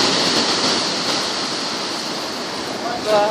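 A rough sea churns with whitecaps and breaking waves, a loud, continuous roaring wash of surf heard up close throughout.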